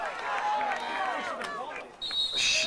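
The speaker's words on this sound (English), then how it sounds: "And we have a whistle." Referee's whistle at a college lacrosse game, a sustained shrill blast near the end after crowd noise and busy play, with a commentator talking throughout.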